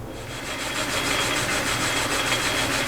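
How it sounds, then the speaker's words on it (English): Antique pre-1907 Hardinge Cataract lathe turning down a metal surface to make it concentric, a steady, continuous rough rubbing and scraping hum with a faint rhythmic pulse, close and alone with no talking. "So we're going to turn down the surface of that and make it concentric with the center."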